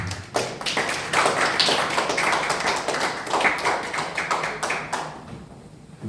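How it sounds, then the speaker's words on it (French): A church congregation applauding at a Maranatha-themed service, a dense burst of many hands clapping together for about five seconds, loud and close, then cutting off abruptly into quiet. "Nous acclamons pour la parole de Dieu."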